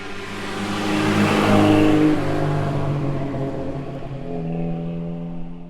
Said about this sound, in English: some drive-by shots with a stationary camera by the side of the road and just watch me drive by